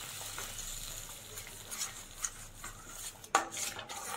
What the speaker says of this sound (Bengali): এবার আমি মশলাটাকে ভালো করে কষাবো